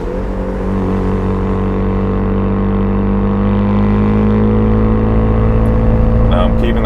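A 400hp Mazda FD RX-7 rotary engine holds a steady 3,500 RPM cruise on half boost, its loud, even drone unbroken for the whole stretch, with a faint tick of cabin noise near the end.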